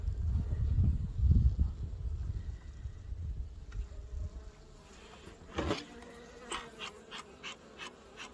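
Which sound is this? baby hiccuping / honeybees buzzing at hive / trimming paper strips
honeybees buzzing at hive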